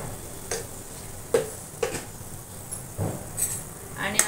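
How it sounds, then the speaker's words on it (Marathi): Water with a spoonful of ghee and salt boiling in a wok, giving a soft bubbling hiss broken by several brief louder pops and clinks. "छान अशी उकळी आलेली आहे पाण्याला"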